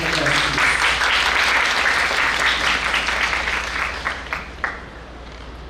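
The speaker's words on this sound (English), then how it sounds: "Round of applause, please." Conference attendees applaud in a hall, a loud, dense burst of clapping that thins out toward the end, leaving a few scattered final claps.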